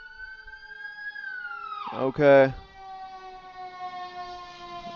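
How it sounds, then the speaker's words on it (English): A fire rescue vehicle's siren passes by, its wailing tone sliding down in pitch as it goes, followed by a short burst of a person talking while a fainter tone lingers. "Siren's coming by."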